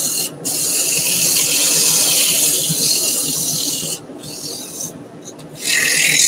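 A wooden potpourri pot spinning on a lathe is sanded with 100-grit abrasive, giving a steady close rasping rub that runs almost continuously, dips briefly near the end, then resumes.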